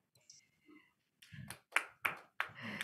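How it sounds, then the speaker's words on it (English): A small audience at the Cyber Education Forum gives applause for the speakers; a handful of sharp, separate claps follow a few quiet sounds, close and sparse rather than a full ovation. "give applause for all the speakers"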